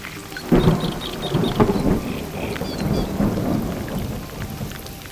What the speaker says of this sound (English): It's a monsoon, a force of nature that annually unleashes thousands of millimeters of rain upon this forest.